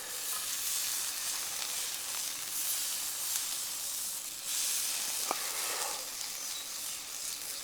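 Pork kebab sizzling over a camp cooker at a car-camping stop, a steady close hiss and crackle of frying meat that runs unbroken throughout, with no talk.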